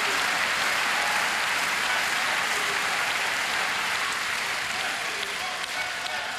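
Steady applause from a crowd in an indoor dome arena in Bremen during a table tennis match, loud and continuous throughout without a break.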